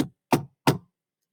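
Three sharp knocks land on a door in an even rhythm, close and clear, with nothing else around them.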